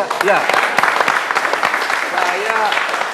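A television talk-show studio audience claps during a discussion about Indonesian football governance, the clapping ragged and mixed with voices talking over it throughout.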